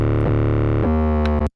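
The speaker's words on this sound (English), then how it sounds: "But the main sound is coming from the synth" Synth playing the All Sin patch from NR2 by Slate Digital, sustained tones with a few note changes and gliding pitch, loud and alone, ending abruptly.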